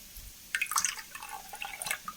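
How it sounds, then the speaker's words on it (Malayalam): Water is poured into curd in a couple of short splashing bursts with gentle trickling and dripping, close by and fairly quiet, with no talking. "കുറച്ച് വെള്ളം ചേർക്കാം, തൈരല്ലേ."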